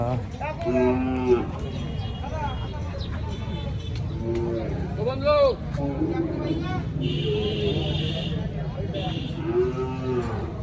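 Cattle low repeatedly over a busy cattle market din, several moos rising and falling across the scene amid crowd noise and passing traffic.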